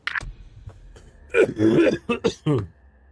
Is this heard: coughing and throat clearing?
yes